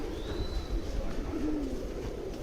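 Soft, low pigeon coos murmur beneath steady outdoor background noise at Pashupatinath in Kathmandu, with a faint thin bird whistle drifting above.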